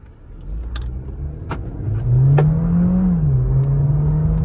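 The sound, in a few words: car accelerating in sport mode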